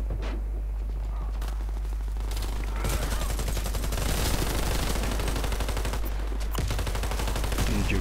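Rapid bursts of gunfire in a shooter video game, dense and continuous over a steady low hum, loud and close with a brief lull near the middle.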